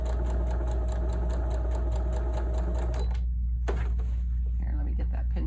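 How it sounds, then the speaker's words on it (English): A sewing machine stitches quilt patches at a quarter-inch seam, whirring fast and evenly close by, then stops abruptly for a moment before restarting briefly under a steady low hum. "And I'm going to go ahead and start sewing."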